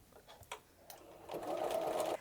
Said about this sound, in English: Put the foot and the needle down and do a couple of stitches to anchor that top.